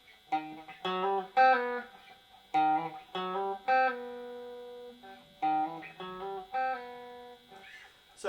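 An electric guitar plays a short lick of quick, connected notes in repeating phrases, with clean sustained tones between the bursts.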